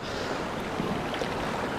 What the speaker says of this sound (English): But apologies for the wind,